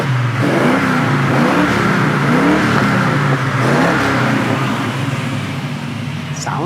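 A 1968 Chevrolet El Camino with its numbers-matching 327 V8 revving steadily at close range, a loud continuous engine roar with rising and falling pitch through the clip.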